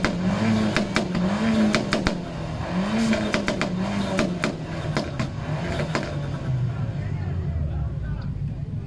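A warm car engine with worn pistons rumbles close by, its pitch rising and falling in repeated revs, with sharp clicks and knocks over the idle.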